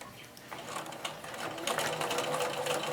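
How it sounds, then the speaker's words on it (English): A sewing machine stitches a doll quilt closed, its continuous close, rapid mechanical whir rising slightly in loudness, with no talk. "I am going to just stitch it closed with the machine."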